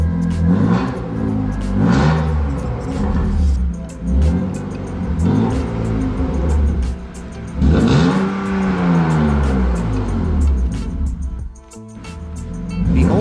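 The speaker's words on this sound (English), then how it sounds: "Bend exhaust sounds even better than before." BMW engine with a bent exhaust revving repeatedly, rising and falling pitch sweeps in loud, close bursts with brief pauses between them, no talking.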